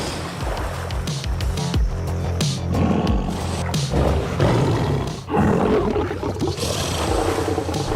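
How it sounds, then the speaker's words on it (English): A deep, rumbling big-cat roar, loud and close, swelling over several seconds with a brief dip near the middle amid dense wild outdoor noise. "sometimes a simple roar is enough to determine who the true king is"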